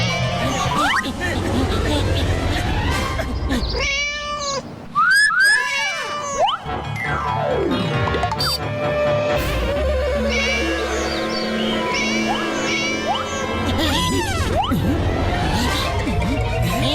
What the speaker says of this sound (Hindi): काली बिल्लियों की फौज ने पकड़ लिया तो एक हड्डी भी नहीं बचेगी